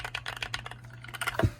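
Close, crisp keystrokes on a KBDFans 5 Degree mechanical keyboard with Holy Panda switches, a quick run of rapid clacks ending in a heavier thock, alone over a faint low hum.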